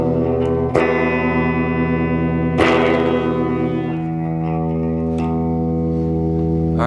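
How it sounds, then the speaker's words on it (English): A sustained, harmonically dense tone runs through a simple distortion effect built on an FV-1 DSP development system, sounding gritty and reverberant, with sharp attacks near the start and middle. "As we turn it up a little bit, we're starting to get some of those distortion artifacts."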